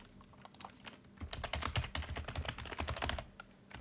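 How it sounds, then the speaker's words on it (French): Fast, hard typing on a computer keyboard while filling in an account signup form: dense rapid clatter of key strikes, close and distinct, building after a quiet start and continuing steadily, with no one talking. "Je vais marteler mon clavier viteuf là"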